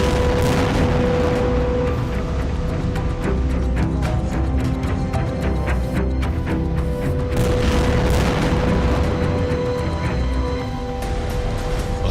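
Heavy booms and rolling blasts from Israeli strikes, dense and continuous for about twelve seconds, with rapid sharp reports layered over a constant low rumble.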